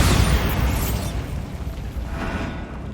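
Bombarda blasting spell in Hogwarts Legacy, a loud booming explosion that hits at once and decays into a rumbling tail over a couple of seconds, with no talk.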